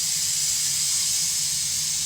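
Steam hisses steadily out of a pressure cooker's jiggler release valve, a loud, continuous, even rush close by with no talk over it.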